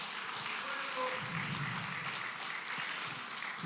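A church congregation applauds the worship team after music at a prayer meeting, a soft, distant, even patter of clapping filling the room without pause.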